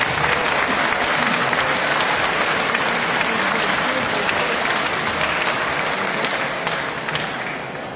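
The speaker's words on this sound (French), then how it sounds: "On les applaudit, on les remercie." An audience applauds steadily to thank partner organizations, among them a Montreal health network and a café, with dense sustained clapping filling the room before it tapers slightly at the end.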